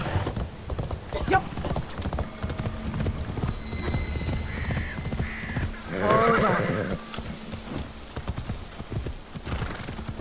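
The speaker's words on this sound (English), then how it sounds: "Hello, my teleporting, immersion-breaking horse." A horse whinnies loudly in the middle, among clip-clopping hooves and busy background activity in the video game Assassin's Creed Shadows, with some talking around it.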